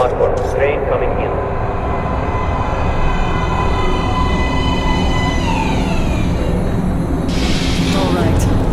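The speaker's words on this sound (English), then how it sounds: "Please step away from the edge of the platform. Train coming in." A metro train pulls into an underground platform in the video game Metro Last Light, a loud constant rumble with high whining and screeching tones that shift in pitch as it arrives.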